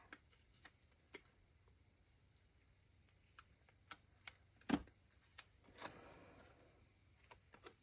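Scissors fussy-cut around a paper flower for a journal: a run of quiet, sparse close snips and paper rustles, with one sharper click in the middle.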